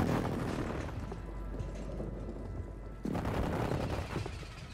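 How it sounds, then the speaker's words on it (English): Airstrike explosions and gunfire in Call of Duty form a dense, loud, continuous barrage of booms and rattling shots. A fresh heavy burst strikes partway through, with no talking. "Hostile airstrike near your location."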